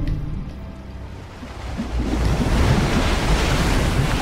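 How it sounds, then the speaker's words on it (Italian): Players plunge into water in Fortnite, with a broad, steady rush of splashing, wave-like noise that swells louder partway through and continues to the end, heard alone without talk. "sono entrati in acqua. Hanno fatto un salto pazzesco."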